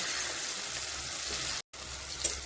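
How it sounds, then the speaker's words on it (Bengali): Mushrooms frying in oil in a pan, a steady close sizzle running throughout with one brief dropout, no talking. "এটা আর একটু ভাজা করে নামিয়ে রাখবো"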